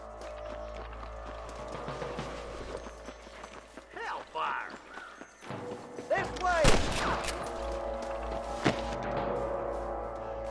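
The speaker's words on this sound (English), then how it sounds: "Some pretty damn good shooting" Red Dead Redemption gunfire, a few sharp shots cracking out between hoofbeats and outdoor ambience, with someone talking in the middle.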